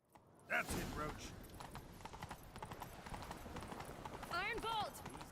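Roach, a horse in The Witcher 3 video game, gallops with steady clip-clop hoofbeats that run right through. Voices call out over the hooves, and a short whinny-like cry comes near the end.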